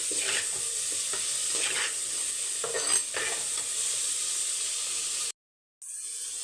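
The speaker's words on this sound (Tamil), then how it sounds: "அதனால தான் தனித்தனியாக நான் வதக்கிறேன்" Ingredients for crab masala sautéing separately in a pan, with a continuous close sizzle and hiss and occasional scraping stirs, cut off by a brief silence before the frying noise resumes.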